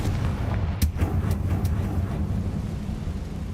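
A Confringo blasting spell goes off in Hogwarts Legacy with a sharp burst followed by a few quieter cracks over a rumbling, steady game background.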